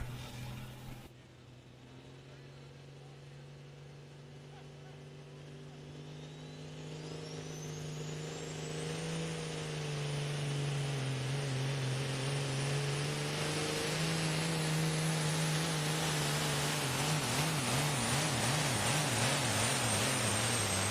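A semi-truck engine straining through a truck pull run, a loud, continuous roar that builds and rises in pitch with a high whine over it, steady and close for the full pass.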